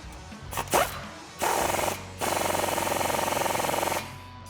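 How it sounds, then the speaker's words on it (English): Power tool, likely an impact wrench, tightening the slip-fit clamp that joins a resonator delete pipe to the muffler on a Ford F150 exhaust, in short bursts followed by a longer steady rattling run. "now we're going to tighten down the slip fit connection so we can mate our resonator delete to our muffler permanently"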